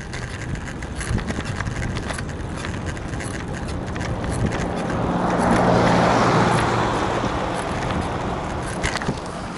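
A car passes along a village road, its engine and tire noise swelling to a broad peak midway and fading again against steady outdoor background noise.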